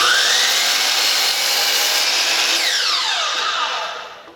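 A power saw cuts through wooden trim boards for a Craftsman style door, a loud close whine holding steady through the cut, then the blade's pitch drops as it winds down and fades.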